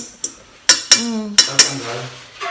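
A metal frying pan is handled in a home kitchen after a stove fire, giving several sharp clinks and knocks against cookware, with a faint voice in between.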